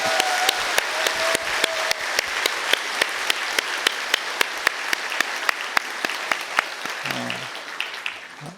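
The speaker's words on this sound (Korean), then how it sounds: "저희가 사랑과 존경의 박수로 환영드리겠습니다" A church congregation at an Easter Sunday service in Daegu applauds in welcome. Many hands clap in a dense, even wash, with a few sharp louder claps and a brief voice near the end.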